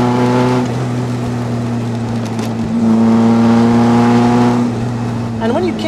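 A 1984 Morgan 4/4 four-cylinder sports car engine idles and revs with a steady, crackly exhaust note, pitch rising and falling, with a voice talking briefly near the end.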